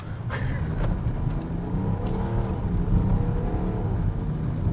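A BMW X6 30d SUV rolling at speed over concrete road slabs, a steady loud low rumble of tyres and engine with a continuous droning hum throughout, no voices.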